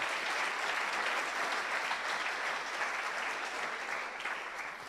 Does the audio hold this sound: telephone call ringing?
no